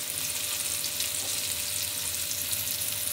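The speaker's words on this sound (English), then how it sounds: "while frying, you take some oil and drizzle it over the pieces of the Bombay duck" Loud, steady sizzling of Bombay duck (bombil) fish, coated in semolina, frying in hot oil, a dense continuous crackle close by with no voices.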